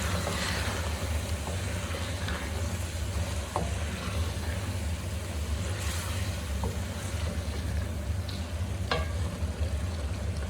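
Kachnar buds being stirred into meat masala frying in a pot, giving a steady close sizzle with occasional scraping clinks of the spoon and a low continuous hum underneath.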